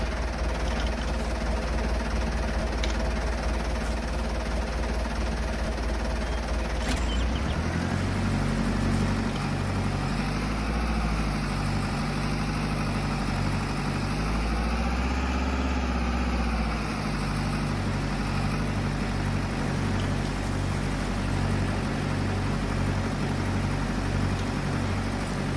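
Tractor engine in Farming Simulator 22 running steadily for the whole stretch, a loud low idle that deepens and shifts pitch partway through as the load changes, with no talking.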